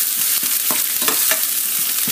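Onion and garlic sautéing in a pot on a low stove, a steady soft sizzle with a few light stirring scrapes scattered through.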